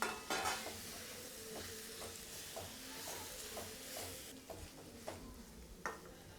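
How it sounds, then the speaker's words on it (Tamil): Boiled cassava is stirred into a tomato and chilli masala in a pan, with quiet repeated scraping strokes over a faint sizzle, fairly soft and close, with no one speaking. "நம்ம வேக வச்சு எடுத்து வச்சுருக்கிற மரவள்ளி கிழங்கை நம்ம இதோட சேர்த்திக்கலாம்."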